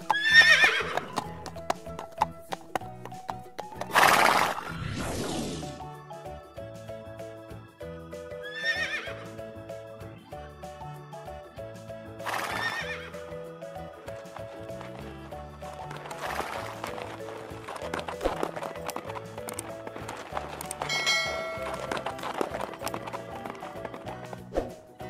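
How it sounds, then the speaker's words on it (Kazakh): A horse whinnies loudly and its hooves clip-clop in a steady rhythm, with repeated neighs over background music. "Жылқы цок-цок деп жүреді және иго-го дейді"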